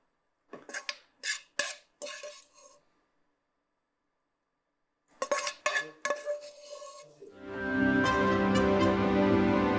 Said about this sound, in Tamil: ரெடி ஆனதை இந்த பிளேட்டில் ட்ரான்ஸ்ஃபர் பண்ணுறேன்